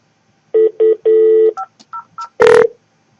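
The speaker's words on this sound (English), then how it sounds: "So I'm going to press the intercom button on any telephone, and I'm going to dial 500." Keypad tones dialed on a Panasonic KX-TVA50 voicemail system phone: three clear DTMF beeps, the third held longer, followed by a few short quieter tones and a louder final tone, isolated in silence.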